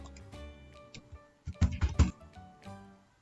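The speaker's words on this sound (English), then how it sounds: "play a sound of a typewriter" Typewriter sound effect, a run of sharp mechanical key clacks with a dense burst of strikes in the middle, close and alone.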